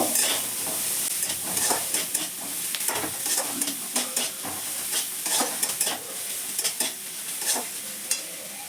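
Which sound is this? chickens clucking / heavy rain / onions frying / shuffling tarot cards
onions frying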